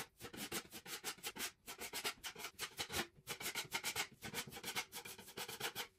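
Acrylic filler being worked into holes in a bedroom wall, heard as a close, rhythmic scraping and rubbing of a spatula against the surface in quick repeated strokes with brief pauses.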